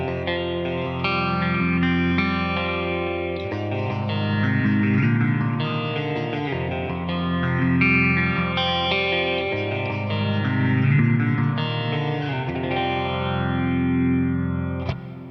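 Sustained electric guitar chords through a real amp, swirling through a 90s phaser pedal model, with analog mono delay echoes and concert reverb washing out behind each strum; no voices.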